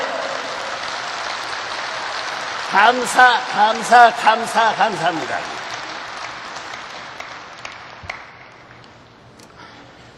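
Audience applause at a Korean religious address fills the hall as a steady, dense patter beneath a voice, then gradually thins and fades toward the end.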